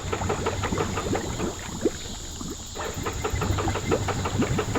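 A Honda 300 engine cranks without catching, giving a rapid, uneven mechanical chatter that runs steadily and fairly close, with a brief lull midway before it picks up again.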